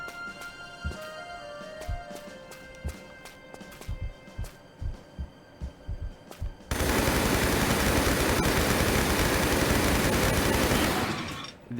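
Gunfire in Tomb Raider III: a string of separate, evenly spaced shots rings out, then gives way to a dense, continuous roar of rapid fire that lasts several seconds before cutting off abruptly.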